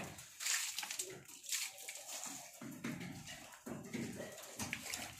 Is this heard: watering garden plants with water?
yes